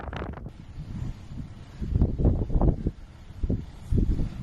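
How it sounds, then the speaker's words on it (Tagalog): Gusty wind of an Arctic snowstorm buffets the microphone in low rumbling surges, swelling and easing several times, with a rough blustery texture throughout. "sumasabay rin ang malalakas na hangin."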